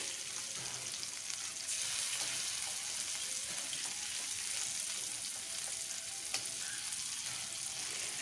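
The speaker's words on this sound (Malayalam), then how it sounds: "അപ്പോൾ അതും ഒന്ന് വറുത്തെടുത്തു." Marinated pieces fry in hot oil in a pan, a steady dense sizzle that carries on throughout without pause, close and fairly loud with no speech.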